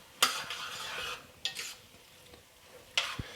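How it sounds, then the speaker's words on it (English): Shrimp cook in a pan, giving a faint sizzle under three sharp scrapes and clinks of a utensil stirring against the pan, spaced about a second apart. "let's go ahead and stir them shrimp until they just get a little light pink"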